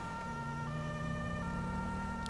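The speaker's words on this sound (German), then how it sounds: "Dann fahren wir mal mit Sirene" Police car siren in GTA V, a steady wailing tone running unbroken under faint traffic and engine noise, moderately loud and close with no speech.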